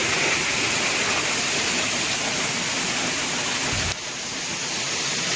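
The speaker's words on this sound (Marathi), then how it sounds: "पाण्याचा आवाज बघू शकता धबधबा पडताना" Waterfall at Dhangar falls near Wagbil, Savroli village outside Badlapur, roaring as a steady dense broadband rush that stays loud and constant throughout, with a brief dip in level near the end.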